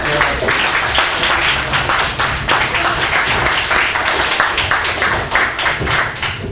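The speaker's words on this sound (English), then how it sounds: "Andy and Lewis, one more round of applause" A closing round of applause at a college visiting writers' reading: loud, dense clapping from a seated audience that holds steady throughout.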